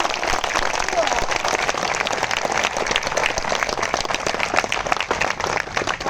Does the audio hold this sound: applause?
yes